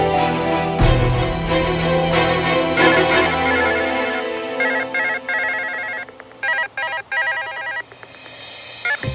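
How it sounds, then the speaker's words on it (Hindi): A telephone rings unanswered in a Hindi TV drama scene, repeated electronic ring bursts with gaps between them, loud and close, with no talking. "बंटी, फोन क्यों नहीं उठा रहे हो?"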